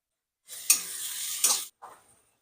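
Spices with turmeric and salt sautéed in a pan on a gas stove at full flame, a short bright sizzle with two scraping stirs, then a brief softer stir.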